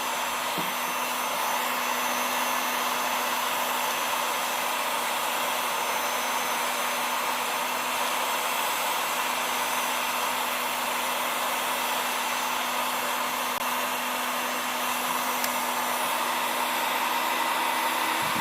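A Makita HG6531CK electric heat gun blows steadily with a loud, continuous whooshing hum and a faint motor whine, running without pause and with no voices.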